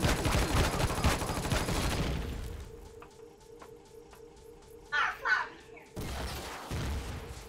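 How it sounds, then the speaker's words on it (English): Rapid turret gunfire in a video game, dense and loud at first, then dropping away to sparse distant shots and clanks, with brief bursts resuming near the end; a voice is faintly present. "I don't know what's shooting"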